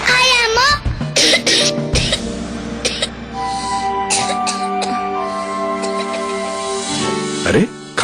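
A child coughs several times in short bursts up close, with other voices and a busy, tonal background mixed in.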